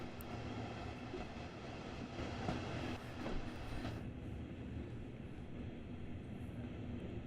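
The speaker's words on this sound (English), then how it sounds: "as you can see, the train is gently moving forward" A train in Train Sim World on the Ruhr-Sieg Nord line rolls gently forward. It gives a steady rumble with faint rail clatter and a brief squeal, heard close and continuous with no voices.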